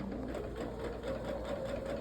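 A sewing machine runs steadily and close while sewing a quarter-inch seam on a quilt top, its even mechanical hum continuing without a break.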